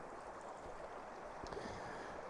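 A small brook on Dartmoor flows in a steady, even rush of water with a faint gurgle. It sounds close and continuous, with no voices over it.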